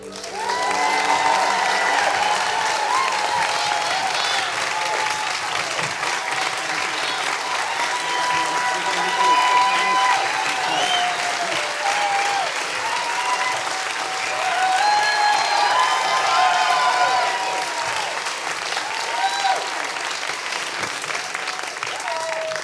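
Sustained audience applause welcoming lesbian photographer Joan E. Biren (JEB) to a slide-show presentation, a full room clapping steadily for over twenty seconds with some cheering and voices mixed in, loud and even throughout.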